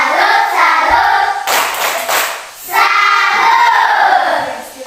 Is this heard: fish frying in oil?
no